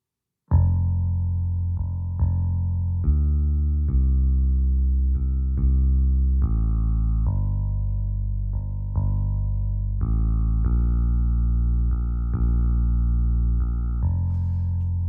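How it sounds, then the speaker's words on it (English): A solo electric bass line from a song, sustained notes moving steadily through the progression with no other instruments or voices, loud and close throughout. "Let's play this bass on its own."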